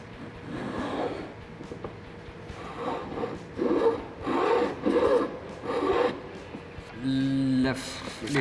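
A small file rasps across a fret slot on a handmade electric guitar neck in a series of rough back-and-forth strokes, close and fairly loud, with brief pauses between bursts and a faint hum near the end.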